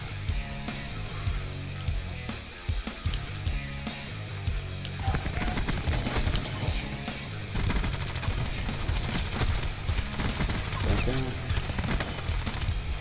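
Rapid automatic gunfire crackles in dense bursts in the Call of Duty Blackout battle royale mode, sustained and loud through most of the stretch, with players talking over the shooting.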